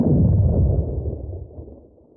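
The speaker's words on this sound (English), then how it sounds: "Was that an explosion?" A dull explosion in a video game, a single low boom that rumbles and slowly fades over about two seconds, with no one talking.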